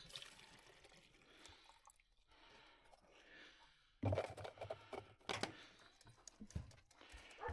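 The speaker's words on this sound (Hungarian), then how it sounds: "És mehet bele a forró víz." Hot water is poured into rabbits' drinking containers outdoors in freezing winter weather. There is a quiet liquid trickle at first, then a louder burst of splashing and dripping partway through.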